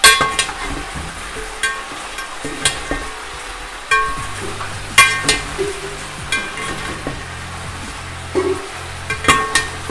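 Golden fried chicken with nutmeg and mace being stirred in a pot for biryani, a continuous low sizzle punctuated by repeated sharp spoon clinks and scrapes against the metal.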